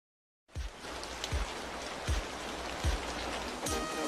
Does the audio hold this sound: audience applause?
no